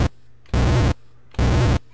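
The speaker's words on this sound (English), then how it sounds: "And here's our explosion." Two blasts of loud synthetic noise from a Color Computer programmed in BASIC, each a harsh burst of static lasting under half a second, with a pause between them.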